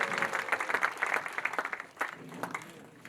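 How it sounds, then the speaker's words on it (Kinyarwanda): A church congregation at an ADEPR evening revival service breaks into applause, with dense, fairly loud clapping in uneven bursts that continue for the whole moment. "Ndagushimiye, tugukomeye amashyi, tugushimira mu izina rya Yesu."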